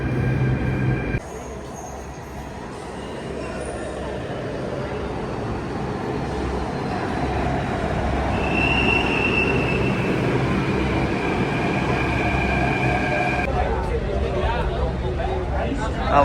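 Delhi Metro train running after boarding at Jama Masjid station, with a steady loud rumble of wheels on rail, a rising electric whine, and squealing as it moves, under occasional voices.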